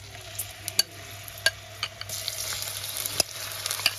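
Drained soy chunks sizzle in a frying pan for sossi firfir, a close, soft, steady crackle broken by sharp pops and the scrape of stirring, with no voices.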